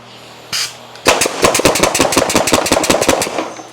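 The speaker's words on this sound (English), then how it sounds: "The nail firing machine is ready." A nail gun loaded with collated nails fires through a garbage can: one short burst, then a rapid volley of roughly twenty sharp, loud cracks in quick succession, close to the microphone.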